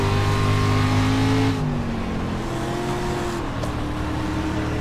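Dirt street stock cars at Volusia Speedway race side by side, their engines roaring loud and steady, then easing into a lower, fluctuating drone as they continue around the track.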